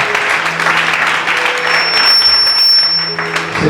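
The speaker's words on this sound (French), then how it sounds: "Acclamons Jésus-Christ, acclamons le Seigneur, acclamons le Seigneur." A church congregation applauding together during a worship service, a dense and continuous burst of clapping with a faint sustained tone underneath.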